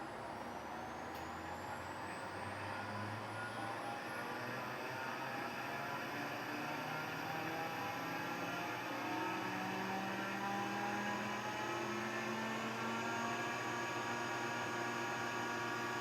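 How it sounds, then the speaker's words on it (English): A screw air compressor starts up and ramps to full speed: a steady, dense mechanical hum and hiss with a thin whine that climbs in pitch, then holds. No one speaks. "let's go ahead and turn the actual screw compressor on and see how loud that is"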